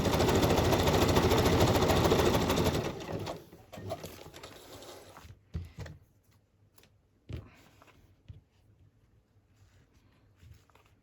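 A sewing machine runs loud and steady for about three seconds, stitching across the belly band of a handmade boho journal cover, then stops, leaving quieter handling knocks and thumps.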